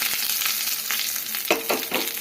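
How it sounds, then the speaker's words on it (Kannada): Green chilies frying in hot tempering oil with mustard seeds and curry leaves, a steady close sizzle with brief louder crackling pops near the end, no voices. "ಮೆಣಸಿನಕಾಯಿ ಸೇರಿಸ್ಕೊಂಡು ಫ್ರೈ ಮಾಡ್ಕೊಳ್ಳೋಣ"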